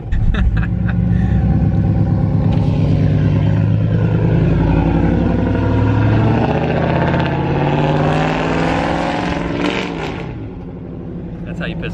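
A lifted truck with a loud novelty exhaust tip, its engine rumbling and revving up and down in strong, close, throaty swells, with a voice speaking over parts of it.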